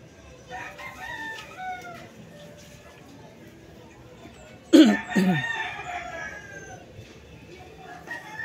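A white hatch gamecock rooster crows once, loud and close, a drawn-out call over a rough background of murmuring and farmyard noise.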